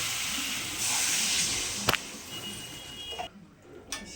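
Water poured over potatoes frying in spiced masala for a yam and fish curry gives a loud, steady broadband hiss lasting several seconds, with one sharp knock midway before the hiss quiets.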